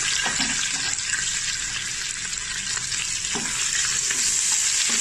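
Roughly chopped onion hits hot spices and cumin in a pan for a mutton curry fry, giving a loud, close, continuous sizzle with faint stirring scrapes.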